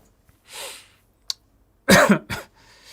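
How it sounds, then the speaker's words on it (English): A breathy inhale, then a harsh, loud cough burst followed by a second shorter cough, close up with no talking. "Still got that cough."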